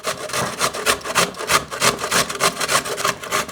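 A fresh beetroot is worked against a hand grater in a home kitchen, producing a steady run of quick, close rasping strokes, several per second, without pause.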